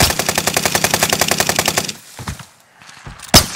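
Rapid automatic gunfire rattles in a long continuous burst in Call of Duty: Modern Warfare, then cuts off, leaving a few scattered impacts and one final loud shot.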